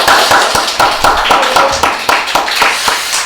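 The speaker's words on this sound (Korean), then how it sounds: "우리 축하한다고 사랑한다고 우리 박수 한번 칩니다." A church congregation claps together during a Sunday children's service, a loud, steady burst of many hands with no voices over it.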